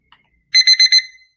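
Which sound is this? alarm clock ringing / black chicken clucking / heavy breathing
alarm clock ringing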